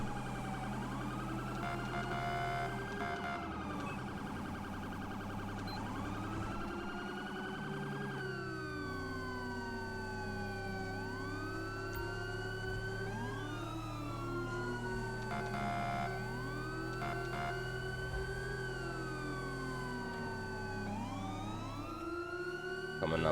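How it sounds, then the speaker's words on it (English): Police sirens in the video game LSPDFR wail continuously, several overlapping tones sweeping up and down over a steady engine drone, loud and close throughout. "Y'all hear the sirens."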